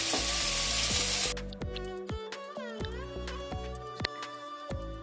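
Vegetable manchurian balls frying in oil in a pan, a loud continuous sizzle that drops after the first second to a steadier crackle with scattered pops and bubbling, heard close with no talking.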